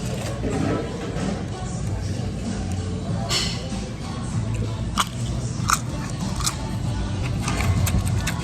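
Crunchy food is bitten and chewed up close at a Hopdoddy burger restaurant, giving a few crisp crunches against steady background noise of the room.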